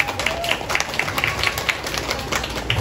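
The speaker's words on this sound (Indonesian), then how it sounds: "Tepuk tangan dulu." Scattered clapping from an audience at an Islamic boarding school graduation ceremony, light and uneven with a few louder claps, brief and somewhat buried in room noise.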